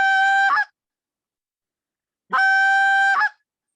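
A short reed goose call gives two honking notes, each a clear held tone that breaks with a cluck at the end, separated by a long silence and heard close up.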